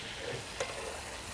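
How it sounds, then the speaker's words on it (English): Onions sizzling on a grill and stirred while they cook, a steady low frying crackle with one brief scrape of the stir near the middle, close and fairly quiet, with no voices. "Just wanna give them a stir every couple of minutes."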